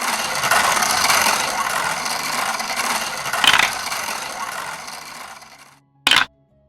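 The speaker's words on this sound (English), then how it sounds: "Let's go ahead and spin the bingo wheel and see what happens." A bingo wheel spun by hand, a close rapid ratcheting rattle that slowly winds down over several seconds, followed by a short sharp knock, with no talk.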